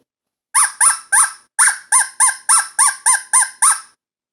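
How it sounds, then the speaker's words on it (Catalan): A moorhen-style call repeated about ten times in quick, evenly spaced squawks, loud and close, each note sharp with a falling tail, with no other sound around it. "La gallina d'aigua!"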